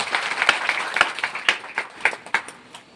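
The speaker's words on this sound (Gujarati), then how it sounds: "એમના સન્માનમાં એકવાર તાળીનો ગડગડાટ વધારી દેજો" Applause rises in uneven bursts of clapping from the crowd gathered at a Mataji temple, moderately loud and thinning toward the end without any speech over it.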